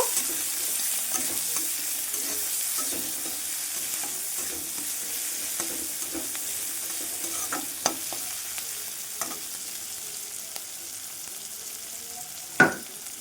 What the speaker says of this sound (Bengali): ভালোভাবে নাড়িয়ে চাড়িয়ে ব্রাউন কালার করে নেব